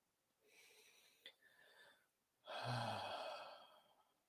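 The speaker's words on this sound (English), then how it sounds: "Now let's take a deep breath." A slow, deep breath during a guided movement practice: a soft inhale, a short pause, then a louder, fuller exhale that trails off. Close and alone, with no talking.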